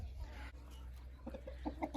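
Young roosters cluck softly in a summer coop, several short quiet clucks bunched toward the end over a low steady background hum.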